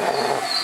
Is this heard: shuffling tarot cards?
no